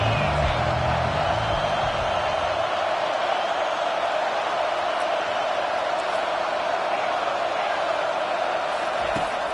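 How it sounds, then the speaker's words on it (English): A football stadium crowd at an Ohio State game, a dense, steady roar filling the space at a constant loud level, with no clear voices standing out. "this crowd is turning it up a notch"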